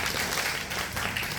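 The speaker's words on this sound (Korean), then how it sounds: "여러분 이쯤에서 뜨거운 박수 부탁드리겠습니다" Warm applause from an audience at a university talk concert in a hall, a dense, steady wash of many hands clapping at once with no speech over it.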